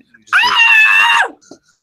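A man imitates a shrill little-girl scream with his own voice, one loud sustained shriek of about a second that ends in a short breathy tail.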